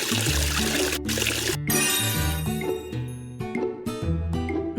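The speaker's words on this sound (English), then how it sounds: "Help wash their faces with water." Water pours and splashes in a children's cartoon face-washing game, with a bright rushing burst in the first second and a half over a bouncy, playful music backing.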